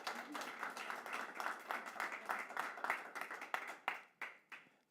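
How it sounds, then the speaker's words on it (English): Audience applause at a public health nutrition event, a dense steady patter of clapping that thins toward the end into a few separate claps, moderately loud and with no talking over it. "A big applause for them."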